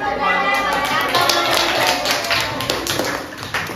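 Schoolchildren in a sixth-grade classroom clap their hands together, a loud, busy patter of many close claps with sharp individual strikes that fades slightly toward the end.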